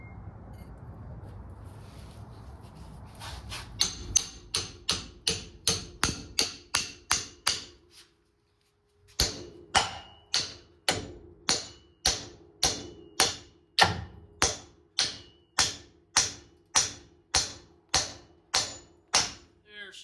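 Repeated hammer blows drive a pickle fork in to split a car's ball joint from its bushing, about twenty sharp metallic strikes in a steady rhythm, close and loud, with a brief pause partway through.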